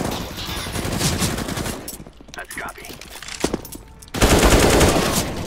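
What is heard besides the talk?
AK rifle gunfire in a video game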